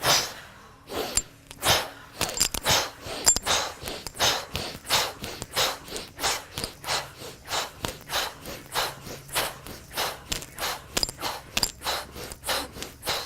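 Steady, rhythmic breathing during a guided breathing exercise, with a long run of sharp, forceful breaths through the nose coming close and loud at a quick, even pace.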